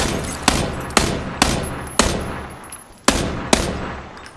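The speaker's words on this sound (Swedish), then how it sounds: "Jag smäller av skott." Sharp gunshots in the video game PUBG fire one after another at uneven intervals, about nine in total, each with a short booming tail.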